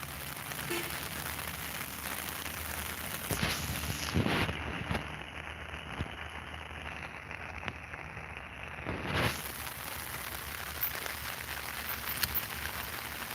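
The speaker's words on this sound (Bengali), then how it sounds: "দেখছেন কীভাবে বৃষ্টি পড়ছে" Steady rain falls in Sylhet during the dry winter season, a soft, continuous patter, fairly quiet and distant, with a few brief louder gusts or bumps partway through.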